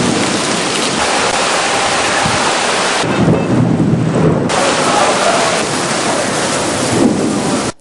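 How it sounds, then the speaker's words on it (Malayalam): Heavy rain pours steadily in Punalur with thunder rolling through, a loud, dense downpour filling the whole stretch without letup, briefly duller in the middle before surging back. "പുനലൂരിൽ നഗരത്തെ തണുപ്പിച്ച് തിങ്കളാഴ്ച ശക്തമായ മഴ പെയ്തു"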